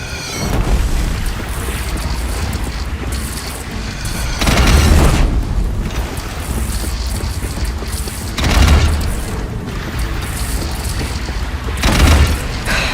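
Heavy explosions from a hostile machine firing in Horizon Zero Dawn, four deep booms roughly every four seconds over continuous rumbling combat noise and mechanical whirring, with no talk.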